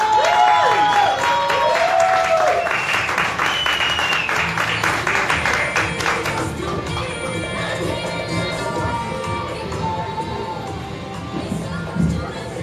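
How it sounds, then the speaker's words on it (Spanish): An audience breaks into sustained applause to welcome a guest, a dense wash of clapping that holds steady throughout, with brief bird-like whistles or tones audible early on. "Vamos a darle un fuerte aplauso para recibir a nuestro amigo"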